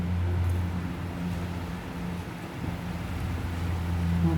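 Strong wind blowing through trees, a steady broad rushing roar with low rumbling microphone buffeting, continuous and fairly loud without speech.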